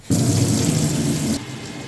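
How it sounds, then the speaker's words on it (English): Hot water from a tap after repair of a leaking Worcester-Bosch boiler gushes in a steady, close, loud stream for just over a second, then cuts off, leaving a faint hiss with no talking. "hot water coming through, and it's all fine in there as well, not leaking"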